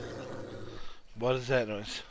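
A wolf in the video game Far Cry lets out a low, rumbling growl, followed by a voice talking over it.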